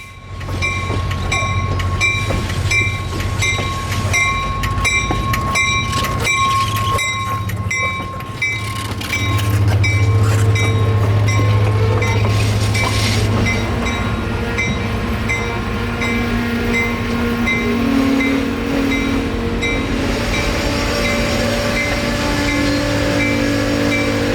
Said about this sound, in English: the Seminole Gulf dinner train pulls into the Punta Gorda depot